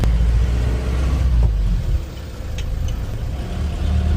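The very first Mercedes-Benz Sprinter van, a 60-horsepower four-cylinder non-turbo diesel with no power steering or brakes, drives with a steady, loud low engine rumble and no talk.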